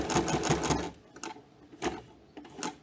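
Sewing machine stitching the sleeve placket of a men's kurta, a fast close rattling run for about a second, then short stop-start bursts of stitching.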